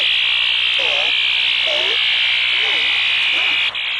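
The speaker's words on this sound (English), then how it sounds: "Examples of electronic jamming." An electronic radio jamming signal holds a loud, steady high-pitched hum throughout, overlaid by repeated warbling, swooping tones that rise and fall in a regular cycle.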